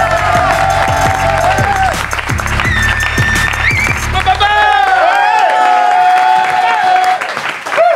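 Crowd applause and cheering at a French stand-up comedy evening, loud and continuous, blended with music-like tones and voices over the top.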